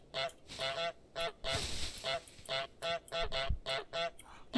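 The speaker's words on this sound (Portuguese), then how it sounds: "Pressione espaço para grasnar." Cartoon goose honks from Untitled Goose Game, a rapid run of nasal, brassy honks in short bursts with brief gaps, loud and close, with no talking over them.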